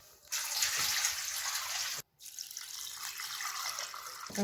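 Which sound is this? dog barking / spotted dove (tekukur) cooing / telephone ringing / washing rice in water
washing rice in water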